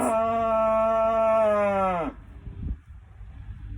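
A single bovine in a beef cattle pasture gives one long, loud, close moo lasting about two seconds, followed by quiet outdoor background with a faint thump.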